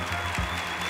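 An audience at a televised talent-show semifinal applauds, a brief burst of steady clapping at moderate loudness.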